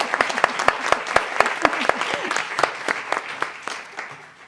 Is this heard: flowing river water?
no